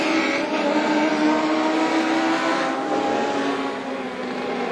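Legend race cars roaring around a speedway oval as the leader exits turn four into lapped traffic; a steady, loud, continuous engine drone with a slight swell and fade as the cars pass.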